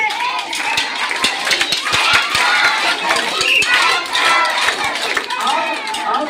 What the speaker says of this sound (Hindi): स्काउट ताली शुरू करना है